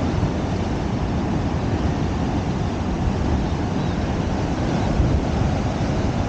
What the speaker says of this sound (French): Ah, c'est des vagues, hein.